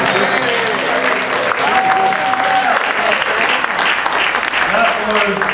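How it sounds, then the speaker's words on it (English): Audience applause after a guest is introduced on a comedic show, a dense, steady wash of clapping lasting throughout with crowd noise and a brief voice mixed in. "Let's have another round of applause for Dr. Lucas Mandible."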